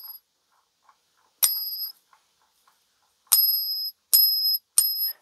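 Silver coins ring out with clear high-pitched pings when struck in a ping test: one ring near the start and four more later, each sustaining briefly before cutting off, with faint clinks between.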